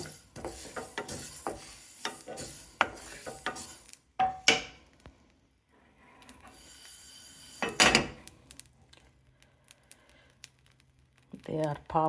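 Ingredients for tomato pickle roasting in a pan over low heat, with scattered sharp pops and crackles, some louder bursts, and stirring clatter, close up and uneven.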